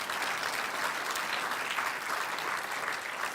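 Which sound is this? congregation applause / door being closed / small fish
congregation applause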